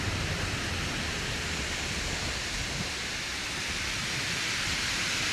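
Dense, steady roar of water splashes in a naval battle video game, a broad noisy wash that continues without break throughout.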